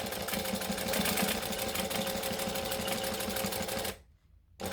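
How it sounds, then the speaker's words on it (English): A sewing machine top-stitching fabric runs in a steady, fast mechanical whir close by, then stops abruptly near the end and briefly starts again. "So we're going to top stitch. So top stitching is 1/8 of an inch."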